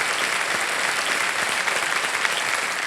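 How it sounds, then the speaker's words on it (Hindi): A studio audience at the Kaun Banega Crorepati quiz show breaks into sustained applause, a dense, even wash of many hands clapping close and loud for about three seconds, with no talking. "ताली बज जाए"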